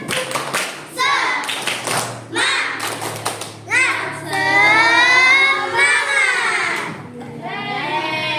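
Children chant in unison with sharp rhythmic handclaps and thumps, voices rising into sustained sung syllables, close and lively in a classroom with a teacher present.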